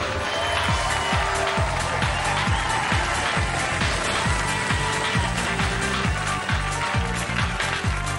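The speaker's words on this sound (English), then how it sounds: "Give them a round of applause!" A studio audience applauds at the close of a Robot Wars robot-combat show, a broad, continuous wash of clapping held at an even level throughout, with rhythmic low thumps running beneath it.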